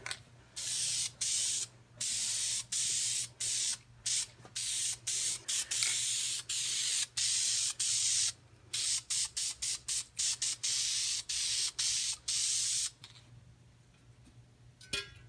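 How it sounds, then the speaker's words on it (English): An aerosol can of Duplicolor high-heat caliper paint coats a radiator shroud in a long run of short, loud hissing spray bursts with brief gaps between them. The spraying stops near the end, leaving quiet room tone. "Now we'll paint this part. Using Duplicolor's high heat for calipers, you can use pretty much any paint."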